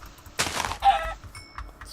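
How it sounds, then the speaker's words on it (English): Chickens in a blocky survival video game give a couple of short clucking calls, brief bursts separated by quiet gaps. "There's some chickens."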